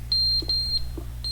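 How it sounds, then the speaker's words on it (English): An alarm clock in the video game The Stanley Parable gives high, thin electronic beeps in quick pairs over a low steady hum, clear and fairly close. "It's an alarm clock."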